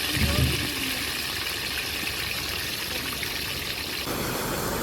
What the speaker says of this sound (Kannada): ಡ್ಯಾಮಿಂದ ನೀರು ಬಿಟ್ಟವ್ರೆ ಕೆರೆಗೆ